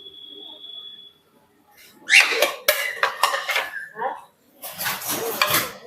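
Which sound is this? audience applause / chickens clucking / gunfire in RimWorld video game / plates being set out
plates being set out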